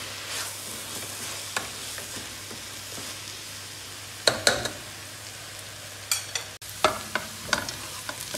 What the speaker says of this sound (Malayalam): ഉള്ളി ഫ്രൈ ആയി വരുന്നുണ്ട്